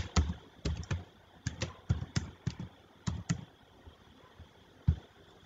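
Keys tapped on a computer keyboard while entering a username and password, short bursts of close clicks with pauses between, one last isolated tap near the end.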